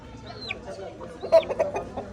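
Hen clucks in short, uneven bursts over a soft, noisy background in a village, with a few high chirps from small birds.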